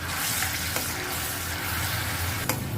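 Grated tomato sizzles and fries in hot oil in a pan for a prawn masala, a steady close crackling hiss with faint stirring clicks and no talking.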